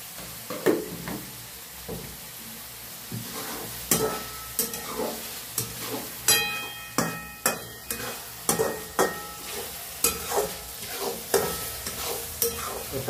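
Tomato and onion sautéing in a pan for masala egg bhurji, with steady stirring scrapes and regular spatula knocks against the pan over a soft continuous sizzle, close and fairly loud, no talking.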